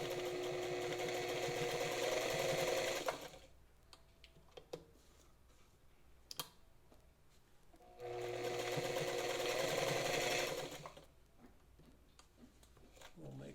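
A 1950s Italian Necchi BF sewing machine stitching seams through old Levi's denim, with two sustained whirring runs of close, steady motor and needle hum separated by a pause filled with small clicks and handling noises.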